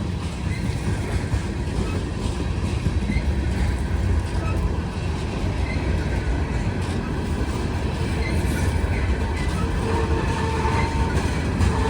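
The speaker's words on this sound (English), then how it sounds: "It's like a coal train." A heavy loaded Norfolk Southern coal train rolls past a railroad crossing at night in a steady, loud rumble with metallic rattling and wheel noise, continuous for the whole stretch.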